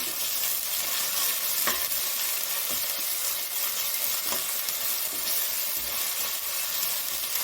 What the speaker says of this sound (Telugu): 1 స్పూన్ అల్లం వెల్లుల్లి పేస్ట్, దీన్ని కూడా ఆయిల్లో బాగా వేయించుకోవాలి